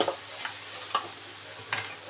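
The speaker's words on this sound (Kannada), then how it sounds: "ಮೆಂತ್ಯ ಸೊಪ್ಪು ನೋಡಿ ಎಷ್ಟು ಫ್ರೈ ಆಯಿತು ಅಂತ" Fenugreek leaves frying in a pan with a soft, steady sizzle, broken by three or four sharp scrapes of a spoon stirring the greens.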